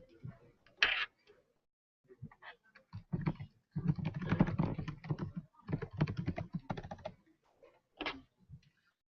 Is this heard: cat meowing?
no